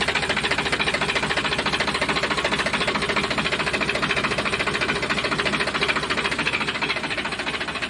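A Sonalika DI 60 tractor's diesel engine idles steadily nearby, a dense, even mechanical clatter with a fast knocking rhythm and rattling vibration holding constant throughout, with no voices.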